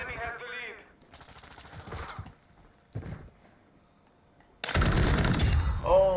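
Gunfire in Call of Duty 2 multiplayer: short bursts of shots come in the first half, then a loud, sustained burst near the end, with a voice shouting in between.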